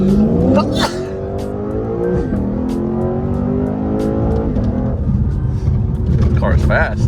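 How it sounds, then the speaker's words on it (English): A Lexus RC F fitted with new lower control arm bushings drives with a loud, steady engine drone that climbs in pitch through the gears as it accelerates, with brief shifts between pulls. "The car is fast."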